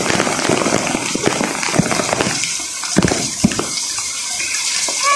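Heavy rain pours down in a dense, steady roar with scattered splashes and drips, close by and loud throughout.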